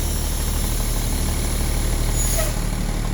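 A school bus engine runs with a steady, loud, low diesel rumble and hiss as it is put in drive and begins to pull away, close up and continuous with no talk.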